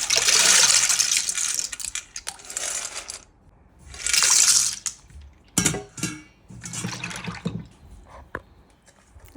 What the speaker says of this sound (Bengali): পাস্তাটা আমি একটু বয়েলে দিচ্ছি